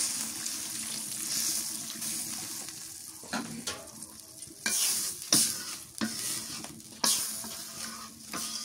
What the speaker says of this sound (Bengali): বেগুনটা কষানো হয়ে গেছে, এবার পানি দিয়ে দিই।